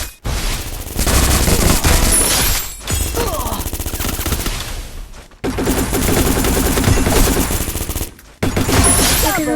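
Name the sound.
gunfire in the video game Free Fire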